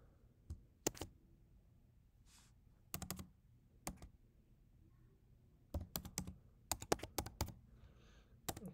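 A password is typed on a computer keyboard in quiet, close clusters of crisp key clicks separated by pauses, with a few faster runs toward the end.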